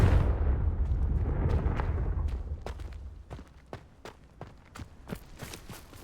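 A Confringo blasting spell explodes in the video game Hogwarts Legacy with a heavy rumbling boom that fades over a few seconds. Scattered sharp taps and footsteps follow.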